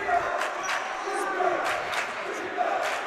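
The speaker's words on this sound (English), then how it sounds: "Crowd getting back into it right now." A crowd at a varsity basketball game cheers and roars in a sustained swell, with a few sharper shouts rising out of the din.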